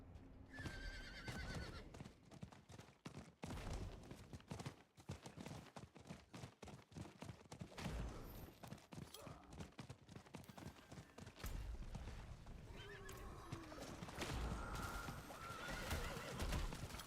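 Horses in Diablo 4 whinny and clip-clop in quiet game audio, with repeated neighs over a busy, irregular stream of hoof clatter, alongside faint bird coos and some talk.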